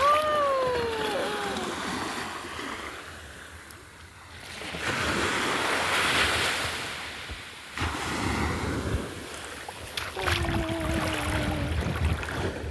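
Morning surf at Chavakkad beach on the sea coast, broad rushing waves building and fading with wind buffeting the microphone, while voices call out now and then over the roar.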